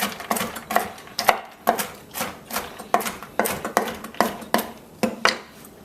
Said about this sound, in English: I've got some pecans and some unsalted cashews. Unsalted. Just going to give that a rough chop.